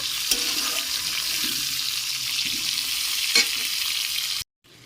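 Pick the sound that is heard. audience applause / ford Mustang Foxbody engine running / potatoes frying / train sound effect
potatoes frying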